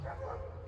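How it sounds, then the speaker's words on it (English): Neighbor's dogs barking outdoors in a dry summer garden, a steady, fairly faint run of yips and barks in the background, with no one speaking over them. "Don't mind the neighbor's dogs."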